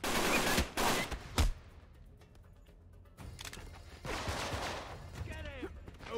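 Bursts of gunfire in the video game Uncharted 3 come in a few sharp volleys at the start, then a quieter lull before more shooting and game sounds return, fairly close and loud.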